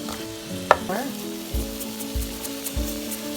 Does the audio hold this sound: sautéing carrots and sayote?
yes